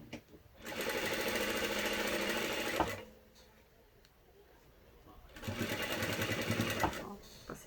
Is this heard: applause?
no